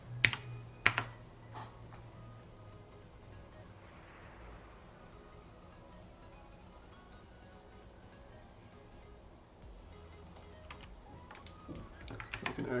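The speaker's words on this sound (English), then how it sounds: "I can actually type this up correctly." Computer keyboard typing during a StarCraft match, with scattered faint key clicks set into a steady bed of game sound and background noise.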